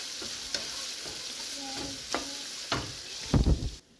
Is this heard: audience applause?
no